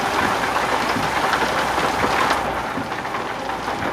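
Rain pouring on a car with the window rolled down in a video game, a dense steady hiss of drops, loud and close, with no voices.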